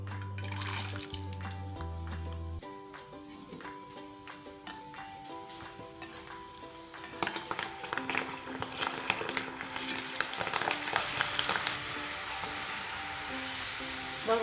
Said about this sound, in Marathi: बघू शकताय आपण छान अशी डाळ इथे आपण तळून घेत आहोत.